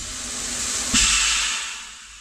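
Air hisses out of the leaking brake system of a Kirovets tractor, a broad steady hiss that swells sharply with a thump about one second in, then slowly fades, with no talking.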